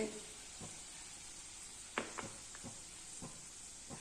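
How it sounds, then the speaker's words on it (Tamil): Milk for paal kozhukattai bubbles and simmers in a pan with a soft, steady hiss, broken by a few light pops and stirring clicks, close and quiet. "நல்லா கொதிக்க ஆரம்பிச்சிச்சு பாருங்கள்"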